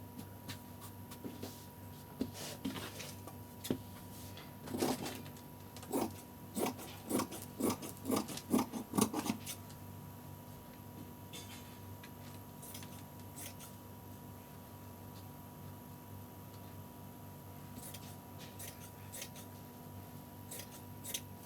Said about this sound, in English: we'll cut these sleeves from this this fabric